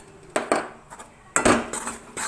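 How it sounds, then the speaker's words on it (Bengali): A spoon scrapes and knocks against a pan while roasted wheat flour is stirred with ghee for atta laddu, giving a few loud metallic clanks and scrapes separated by quieter gaps. "ঘি দিয়েও খুব ভালো করে নাড়তে হবে"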